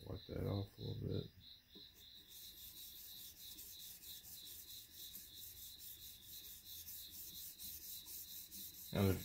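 A chisel being honed on a TSPROF KO3 sharpener gives a steady, close rasping rub that continues through the clip, with brief louder knocks at the start and end.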